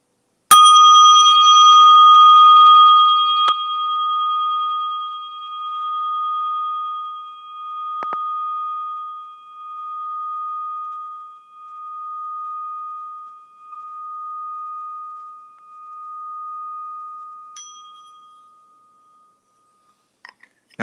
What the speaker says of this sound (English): I'm going to ring this bell